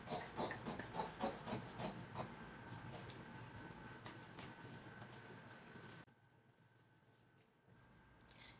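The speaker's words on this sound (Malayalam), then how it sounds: "ഇനി അതിനെ നമുക്കൊന്ന് കട്ട് ചെയ്ത് മാറ്റാം." Scissors cut through fabric for a churidar neck, a series of close, quiet rasping snips and sliding rubs that fade to near silence toward the end.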